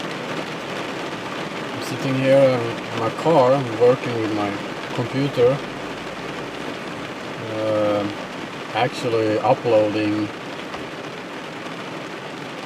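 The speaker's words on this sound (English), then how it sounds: "Okay, so it's raining a lot." Heavy rain drums steadily on a car roof, heard from inside the car, continuous under a voice talking close by.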